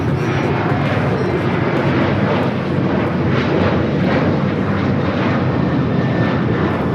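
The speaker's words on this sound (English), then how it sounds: "This is Alaska Airlines 1430 taking off to Puerto Vallarta on the 737-900ER" Loud, continuous jet roar from an Alaska Airlines Boeing 737-900ER taking off at Los Angeles International Airport, the engine noise rumbling and surging slightly as it climbs away.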